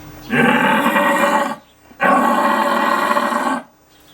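A person uses their voice to imitate a stag's aggressive rut roar. Two long, loud, deep throaty roars each last just over a second, with a short pause between them.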